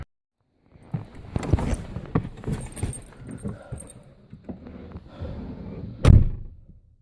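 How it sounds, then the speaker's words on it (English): A 1983 Volvo 240 with 400,000 kilometres on it: a door handled and shut with several clunks and rattles, then one solid close-up slam near the end. "These things sound real solid when you close the doors on them."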